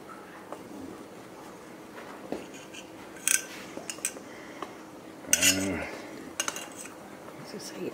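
Worms being spread through an egg omelet cooking in a pan, with metal utensil clinks and scrapes against the pan over a faint background.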